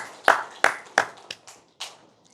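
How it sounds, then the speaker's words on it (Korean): A church congregation gives a few loud, separate claps during a Korean Trinity Sunday service. About six sharp hand claps ring out at an uneven pace, each one dying away into the room. "하나님께 영광의 박수 올려드리겠습니다."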